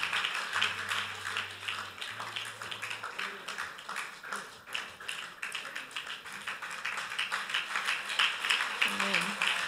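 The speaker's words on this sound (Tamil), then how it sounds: "கைத்தட்டி நீங்க உங்களை உற்சாகப்படுத்தலாம்." Audience members clap their hands in a crowded church hall, a steady wash of claps and taps running the whole time, with voices murmuring and talking over it.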